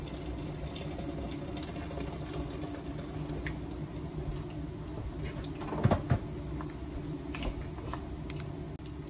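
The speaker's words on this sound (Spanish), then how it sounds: "Le voy a poner un poquito más de agua, como 3 tazas de agua más o menos al guisado." Hot water, about three cups, is poured into a shrimp and nopal stew, a steady soft splashing fill over a kitchen background with a few clinks of a pot or utensil midway.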